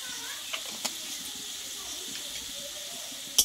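Ground coriander, cumin and turmeric with sugar sizzling softly in hot oil in a pan, a faint steady hiss with occasional small clicks of stirring, while someone talks over it.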